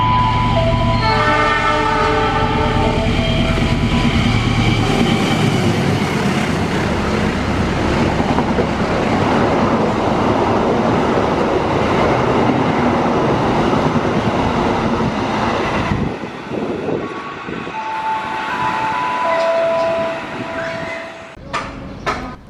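A long passenger train with an executive car in Taksaka livery roars loudly through an Indonesian station, a blaring horn at the start, then a dense rumble of wheels and cars before the noise thins and clatters away.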